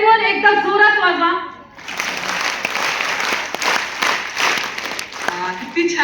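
A speaker talks, then the whole audience at a women's workshop bursts into loud clapping together, a full dense applause lasting several seconds with a few sharper individual claps, before the voice returns at the end.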